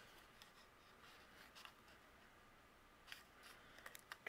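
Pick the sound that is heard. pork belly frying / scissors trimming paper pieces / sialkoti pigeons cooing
scissors trimming paper pieces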